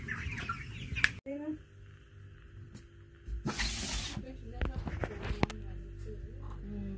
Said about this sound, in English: Whole heap of chickens up top, yeah.